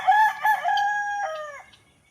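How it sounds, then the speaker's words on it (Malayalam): A backyard rooster crows once, loud and close. The drawn-out call wavers in pitch and then fades into quiet, with no voices present. "നമ്മളെ കോഴിമക്കളും ഉണ്ട് കൂടെ"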